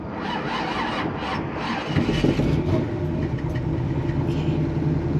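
A big block car engine, a manual four-speed, starts and settles into a rough, loud idle, then rises slightly under light throttle, close by with no talking.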